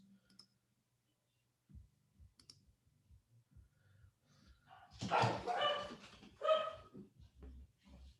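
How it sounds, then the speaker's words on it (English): Dogs bark in a sudden loud, close burst of several overlapping yaps, preceded by a few faint clicks and quieter sounds; no talk over it. "Dogs are going crazy"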